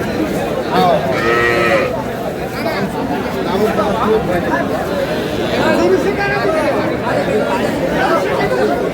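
Cattle, cows and calves, low amid a busy, noisy crowd at Aftabganj livestock market, with steady chatter and animal sounds filling the scene.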